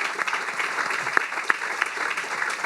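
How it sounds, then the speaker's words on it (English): A room of attendees at a Statesboro news conference claps steadily for South Georgia Tormenta FC, a close, continuous patter of many hands with a few sharper individual claps standing out. "So let's clap"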